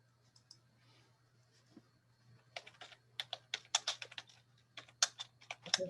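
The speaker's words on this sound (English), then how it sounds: "I think we can hear you, Matheson, because I heard you typing." Keyboard typing begins after a quiet stretch, a burst of quick, crisp key clicks at close range, irregular in rhythm and growing busier toward the end.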